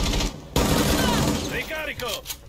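Loud bursts of rapid gunfire from Rainbow Six Siege crash in close, with a voice shouting over the shooting and brief gaps between volleys.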